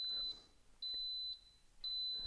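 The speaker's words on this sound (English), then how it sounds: "That three beeps lets me know it's doing the program." Three sharp, evenly spaced electronic beeps from an Instant Pot as its yogurt program starts, each a bright steady tone separated by short quiet gaps, close and clear with no talking.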